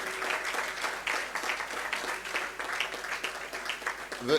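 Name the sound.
audience round of applause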